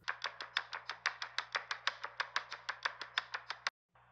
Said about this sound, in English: this percussion delay sounds like this